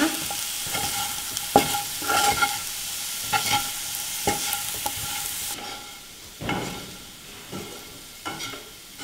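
A spatula stirs a potato fry with garam masala in a pan, giving repeated scraping strokes over a soft sizzle, close up and irregularly paced, with no talking.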